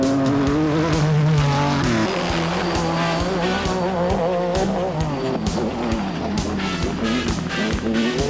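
Race cars roar around a track, loud engine tones rising and shifting with sharp bursts and possible tire squeal, continuous and close with no talk.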